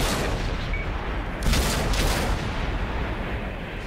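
Gunfire in a competitive video game tournament match, a dense, loud wash of rapid shots and booms throughout with a brief louder burst partway, no clear talk.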